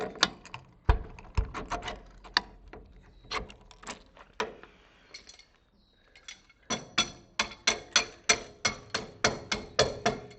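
Repeated sharp knocks from improvised hammering with a tool that is not a hammer during a pontoon-to-tritoon boat build, coming in quick irregular bursts, then a pause, then a steady run of strikes.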